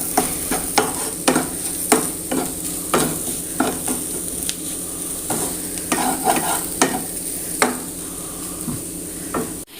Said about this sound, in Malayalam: നന്നായിട്ട് മിക്സ് ചെയ്തെടുക്കാം. ആ മുളക് പൊടിയുടെയും മഞ്ഞൾപ്പൊടിയുടെയൊക്കെ പച്ചമണം ഒന്ന് മാറിക്കിട്ടണം.